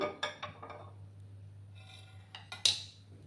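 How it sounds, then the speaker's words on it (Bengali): A pan set down on a lit gas stove while preparing fresh winter fenugreek greens: a few close, light metallic clinks and knocks over a low steady burner hum, with no voices. "প্রথমে দেখো একটা প্যান আমি বসিয়ে দিলাম।"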